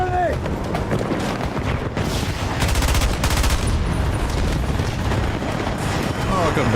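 Gunfire and grenade blasts from a video game battle: continuous loud rumbling explosions with rapid rattling bursts of shots throughout, dense and busy, with voices mixed in.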